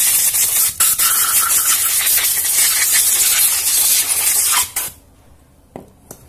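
A loud, steady hiss of compressed air spraying for several seconds while cleaning a Suzuki Supra 125 FI throttle body and fuel pump, briefly interrupted once, then cutting off abruptly into near quiet with a few small knocks.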